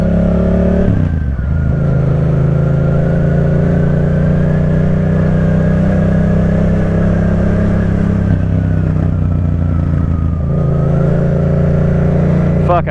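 A Yamaha FZ-07 motorcycle being ridden, its engine droning steadily and loud throughout with pitch shifts as it changes speed, wind rush layered on top, and a brief dip near the start.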